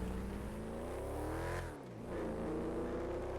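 The Eleanor car's engine in GTA V drones and revs steadily, rising in pitch, then dips briefly as if shifting before climbing again, a continuous game engine sound without talk.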